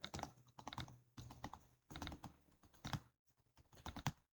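Keystrokes on a computer keyboard while entering a word into a spreadsheet, a quick run of close, crisp clicks in short bursts with brief pauses, quiet and without any voice.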